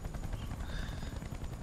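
A helicopter in the video game Battlefield Bad Company 2 gives a steady, loud low rotor drone with a dense rumbling texture that holds throughout, with no voices over it.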